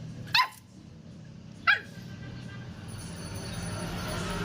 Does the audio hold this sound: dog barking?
yes